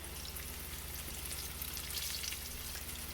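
Onion rings fry steadily in hot oil, a soft, even sizzle with a faint crackle and a low hum underneath, fairly quiet and continuous.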